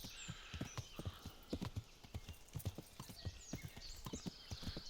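Horse hooves clip-clop at a steady gallop-like rhythm across dirt in Kingdom Come: Deliverance, the repeated thuds close and prominent over a faint ambient backdrop, with a brief whinny.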